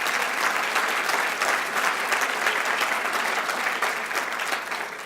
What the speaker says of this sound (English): he deserves a great round of applause for all that